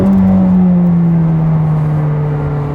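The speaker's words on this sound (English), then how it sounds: "sound of the exhaust" A McLaren 600LT's exhaust revs loudly up close, a strong sustained engine drone that slowly sags in pitch over a few seconds, with no voices.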